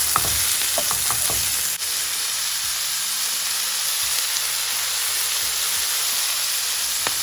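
Red peppers fry in a pan with garlic, giving a steady, close sizzle that runs the whole time, with a few clatters of stirring near the start.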